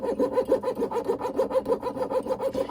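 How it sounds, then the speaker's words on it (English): A jeweler's saw cuts through silver held against a miter vise, making a close, rapid rasping of quick regular back-and-forth strokes that runs steadily throughout. "I'm gonna go ahead and use my jeweler's saw."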